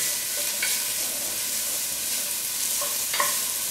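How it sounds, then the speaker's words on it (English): Half an onion sautéing in hot oil, a steady bright sizzle running throughout with a couple of faint scrape-like accents, close and moderately loud with no talk. "My oil is nice and hot now. I'm going to add half an onion. Let it saute a little."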